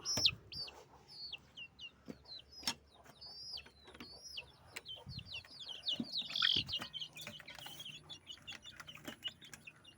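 Chickens in a coop, including a Kappiri hen caring for her chicks, cluck and cheep in irregular bursts, with thin chick peeps over lower clucks, fairly faint but distinct.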